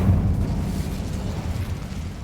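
Incendio fire spell cast in Hogwarts Legacy, a loud sustained rumbling whoosh of flame with a heavy low roar that holds steady throughout.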